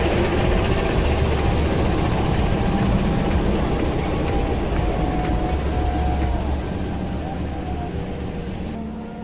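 A Ranggajati passenger train running on rails between Purwokerto and Cirebon, a steady loud rumble with rhythmic clatter and faint brief squeals, continuous throughout and easing slightly toward the end.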